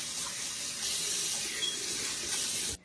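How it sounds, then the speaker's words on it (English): A kitchen tap runs steadily while hands are washed, giving a constant hissing stream that briefly intensifies before the water is cut off abruptly near the end. No one speaks. "Wash my hands."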